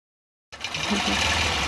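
A robotic longarm quilting machine starts up after half a second of silence and keeps stitching grid work steadily, a fairly loud continuous mechanical hum with a low motor drone.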